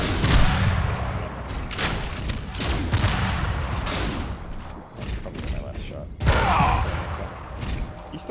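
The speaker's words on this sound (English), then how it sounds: "He's throwing grenades." Grenades blowing up in the video game Tribes 3, a chaotic run of booms and thuds mixed with gunfire and game noise, the loudest burst arriving near the end, with a player talking over it.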